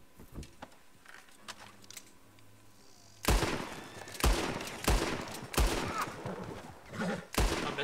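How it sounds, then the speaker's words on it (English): Gunshots from a firefight in the Red Dead Redemption 2 video game, a volley of sharp loud bangs in irregular succession after a quieter stretch of ambient game sound, with faint talk underneath. "I missed like every shot there."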